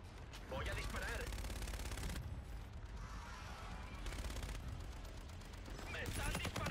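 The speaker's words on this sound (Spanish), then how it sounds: "¡Me están disparando!" Constant, heavy gunfire from a Call of Duty match, a dense wash of rapid shots and explosions that runs loud throughout, with a voice talking over it now and then.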